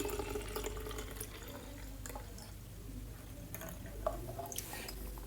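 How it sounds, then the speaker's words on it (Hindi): Water running and splashing as it fills a small container, a continuous close trickle with occasional drips and gurgles, and no one talking. "अब इसके अंदर डल जाएगा पानी"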